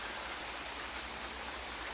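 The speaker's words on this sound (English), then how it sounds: "this little stream at the bottom of the waterfall" A small stream splashes at the bottom of a waterfall, a soft, steady wash of flowing water heard faintly and alone.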